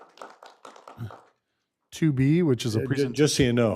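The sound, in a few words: applause from council meeting audience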